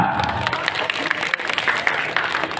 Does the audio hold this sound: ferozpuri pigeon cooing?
no